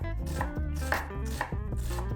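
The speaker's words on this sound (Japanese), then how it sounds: "玉ねぎはみじん切りにします" A kitchen knife minces onion on a cutting board, with quick, rhythmic chops repeating steadily over soft background music.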